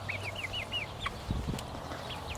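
Chickens in a backyard coop give a quick run of five soft clucks, then a few scattered calls and faint rustling. The sound is fairly quiet and not close.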